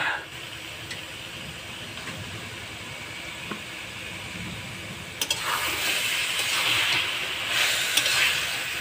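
Salted, turmeric-rubbed lote fish frying in oil in a pan, a soft steady sizzle that swells louder and brighter partway through, with a few small clatters and no voices.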